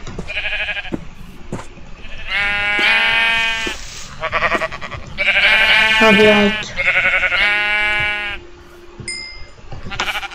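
Sheep in the video game Minecraft bleating repeatedly in short bursts, loud and close, with a person talking briefly over the calls.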